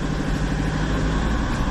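A Toyota HiAce van's engine idles right after starting, a rough, agricultural drone that runs steady and close throughout.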